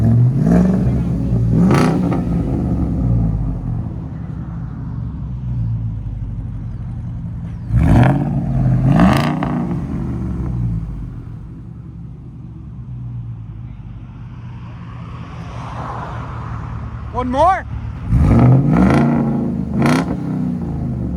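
A 2019 Ford F-250 pickup with a 6.2L V8, Borla S-Type exhaust and resonator delete revs hard several times in short bursts, loud and close, with idling between; a voice speaks briefly.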